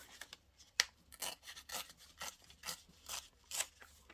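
Scissors snipping a small paper flap off a handmade tag pocket, a series of quiet, close cuts and rustles in an irregular rhythm, with no talking.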